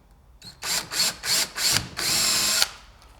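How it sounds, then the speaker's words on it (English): A power drill bores a hole into the end of a Hobie Outback kayak gear track in several short close bursts followed by one longer sustained whir, loud and alone. "Take your drill and drill one hole in the end of the gear"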